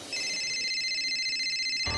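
A landline telephone rings with a bright electronic warble, one sustained ring holding for almost two seconds before a sudden low thump cuts in at the end.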